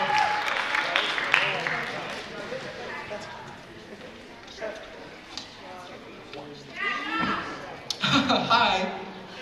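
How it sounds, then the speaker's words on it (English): An audience at a high school Mr. & Miss pageant gives moderate applause and cheers. Voices talk loudly over and between the clapping, which swells again near the end. "Let's give a round of Thanks, applause for Joe."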